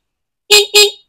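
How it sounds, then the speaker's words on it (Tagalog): Two short, loud honks from the stock horn of a Rusi Yuri Wavestyle motorcycle, close up, a brief pause between them, then silence. "nakaporma na yung ating yung ating busina na tumutunog na"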